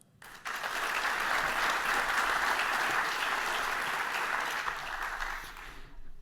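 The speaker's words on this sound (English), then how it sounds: "Let's give them a round of applause." A conference audience bursts into applause at the start of a session, a full, even round of many hands clapping that swells quickly, holds steady, and fades away near the end.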